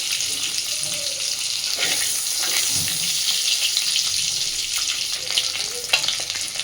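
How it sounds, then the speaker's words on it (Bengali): Two eggs fry lightly in oil in a pan for a Bengali egg curry with cauliflower and potato, giving a steady, fairly loud sizzle throughout, with a few scraping stirs and clinks on top. "আমি ডিম দুটো খুব বেশি কড়া করে ভাজবো না, একটু হালকা করে ভেজে নেব"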